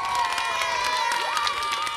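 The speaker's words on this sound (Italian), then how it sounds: "Un grande applauso per la scuola Santa Chiara di Foggia." A crowd of children cheers and shouts loudly and continuously for the Santa Chiara school team of Foggia at a televised school quiz event, with whoops and some clapping mixed in.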